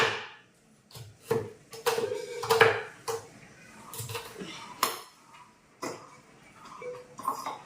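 Knife chopping vegetables on a board in a home kitchen, an irregular run of close, sharp taps and knocks with brief pauses, some faint clatter of utensils between cuts.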